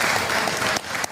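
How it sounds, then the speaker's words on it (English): An audience applauding at a live event, dense steady clapping from many hands, loud and close throughout the short stretch. "I didn't know they were allowed to applaud."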